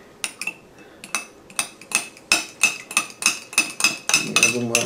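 A fork clinks and scrapes repeatedly against a bowl while stirring to help ingredients dissolve during baking, a steady series of sharp metallic taps about twice per second, close and clear.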